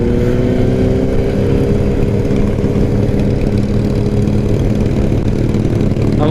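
A BMW HP4 superbike engine runs steadily at close range, a dense, loud idle with a deep rhythmic throb that holds without pause and no voices over it.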